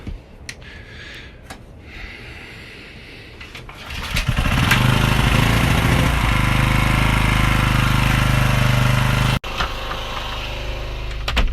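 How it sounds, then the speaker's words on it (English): A boat's generator is started and runs, moving from quiet ambient noise to a loud, steady engine drone that holds throughout, with a brief dropout near the end before it continues. "I tend to run the generator at the same time as well, just so it's sort of charging up gradually"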